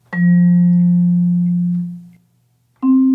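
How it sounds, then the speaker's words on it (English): A single ringing acoustic vibraphone note sustains and slowly fades, followed by a short silence and then the strike of another, higher note. "I have this lovely acoustic vibraphone that I enjoy playing and recording"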